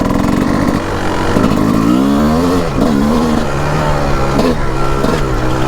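A 2004 Kawasaki KX 250 motorcycle engine revs hard in repeated bursts, its pitch climbing and falling sharply between sharp blips, loud and close with no talking.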